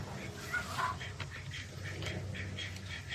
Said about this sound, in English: the Ducks are banging each other right now